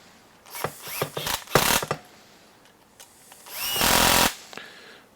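A power driver tightens the rear bulkhead screws on an HPI Baja 5SC RC car in several short whirring bursts, followed by one longer steady whine, all close up.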